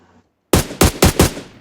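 Gunfire from a shooting video game: a burst of four loud, sharp shots in quick, even succession after a brief silence, each cracking hard and tailing off.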